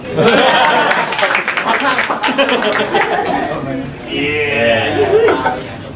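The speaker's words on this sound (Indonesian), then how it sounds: "Nah, tepuk tangan lo." An audience at a stand-up comedy show in Indonesia claps in a dense burst of applause mixed with laughter and chuckles, while a performer's voice carries over the crowd.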